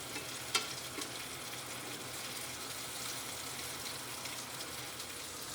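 Onions and a splash of water sizzling steadily in a hot pot during Wisconsin brat cooking, a soft, even hiss with no talking.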